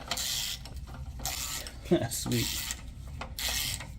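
A socket wrench ratchets in short bursts while loosening a header bolt under a 2022+ Subaru WRX near the oil pan and heat shield, quick clicking runs with pauses and metallic clinks, someone speaking briefly.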